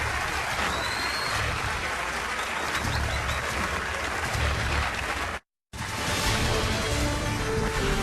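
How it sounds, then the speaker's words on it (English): Audience at a CNN Republican presidential debate in 2015 applauds loudly and steadily for the candidates, a dense sustained wash of clapping with one brief cut to silence partway through. "Please give some applause to the candidates."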